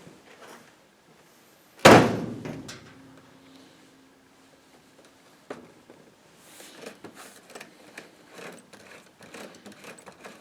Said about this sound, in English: Let's try opening and closing the door.